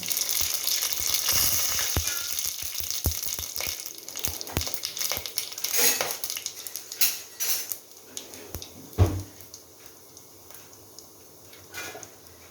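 Whole garam masala spices dropped into hot oil for chicken pulao in a pressure cooker, a soft continuous sizzle with scattered crackles and a few clinks of a spoon, fading toward the end.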